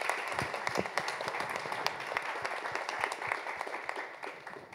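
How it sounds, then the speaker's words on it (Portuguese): Applause from the audience at an Amnesty International Brazil annual report event, a steady crackle of many hands clapping at moderate distance that holds evenly throughout before thinning slightly at the close. "Salva de palmas para você."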